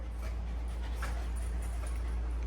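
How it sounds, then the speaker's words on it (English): A dog pants quietly and gives a brief whimper indoors at a cabin, faint against steady low background noise, with no talking. "This one's my dog."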